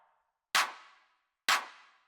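The second layer of an electronic clap sample for techno sounds twice, each a crisp, loud, noisy slap with a brief decaying tail, after a faint fading remnant at the start and with nothing else around it.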